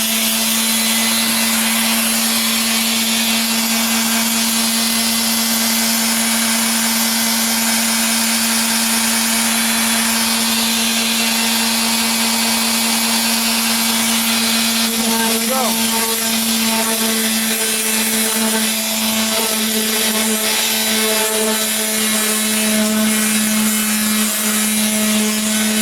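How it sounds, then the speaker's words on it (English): A power sander whirs steadily and loudly while sanding the painted hood of a 1998 Toyota Corolla, a constant motor tone holding for the whole stretch with slight changes in pitch as it moves. "I'm not pressing down, I'm just letting the sander do the work"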